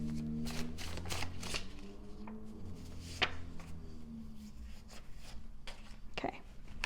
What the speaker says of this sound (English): I think I'm going to shuffle out just a couple more